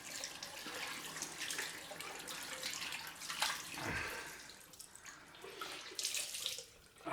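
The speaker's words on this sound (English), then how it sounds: "let's get some cold water on this cloth and get this off" Cold water runs steadily from a tap onto a cloth, a continuous close splashing rush with slight shifts as the cloth moves under the stream.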